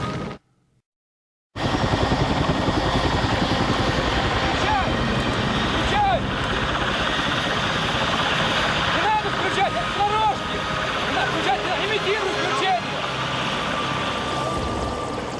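Military helicopters flying over the burning Chernobyl nuclear plant during the 1986 fire, a loud steady rotor and engine roar that drops briefly to silence, then resumes and holds, with faint voices under it.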